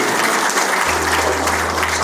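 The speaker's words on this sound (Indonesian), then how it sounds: "Tepuk tangan dulu." An audience claps in sustained, dense applause at a talk, loud and continuous from start to finish, with a low steady hum entering partway through.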